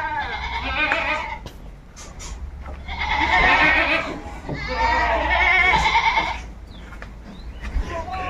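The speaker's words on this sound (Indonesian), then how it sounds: "Iku wedhus sampean, Mas?" Several goats bleat loudly in bursts, close by, with quieter pauses and some faint human chatter between the cries.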